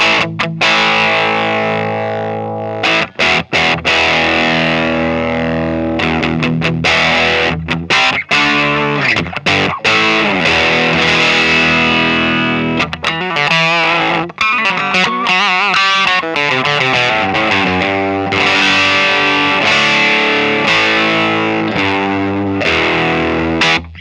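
Electric guitar driven through a Voltic boutique fuzz pedal with the gain turned up, loud saturated riffs and sustained fuzzy chords with choppy stops, played close and continuously with no talking.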